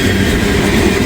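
A CSX freight train rolls past close by with a loud, heavy rumble and a dense low rattle of railcars. It lasts only a brief moment, with no voices.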